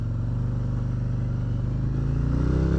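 Close, steady rumble of a 2022 Harley-Davidson Street Glide ST engine in vivid black, idling or running with a low throbbing pulse. The level swells slightly toward the end, and no talk is heard.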